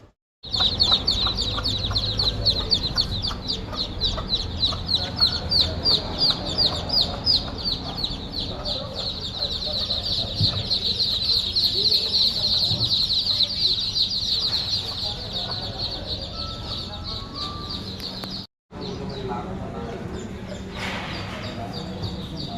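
Chickens and chicks cluck and cheep continuously at close range, a dense busy chorus of high peeping over lower clucks that runs almost the whole time with one brief break near the end.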